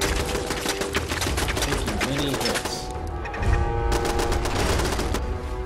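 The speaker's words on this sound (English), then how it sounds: "Well, that looked like a machine gun." A stationary turret in Fallout 4 rattles out fast, steady machine-gun fire, the dense chatter running loud and nearly unbroken with only a brief thinning midway, and no one talking over it.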